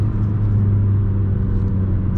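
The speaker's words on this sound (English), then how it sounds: "You can see a lot of wheel spin on this wet road with 15-inch second gear." Audi A3 1.9 TDI with 15-inch wheels spinning on a wet road in second gear, heard as a steady loud low engine and road rumble from inside the car, with no voices.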